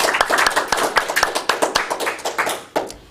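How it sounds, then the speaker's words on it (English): A small meeting audience applauds, giving irregular hand claps that start dense and thin out over a few seconds. "So let's give Rick one final round of applause."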